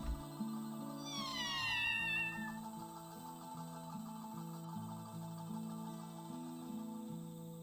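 A kitten meows in the game Forest of Drizzling Rain: one drawn-out, wavering meow with a bright harmonic sweep near the start, heard clearly over steady background music with a repeating melodic line.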